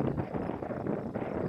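Steady, gusty wind roars across the microphone on a disc golf course during a tournament round, a dense rumbling rush that surges and eases without pause.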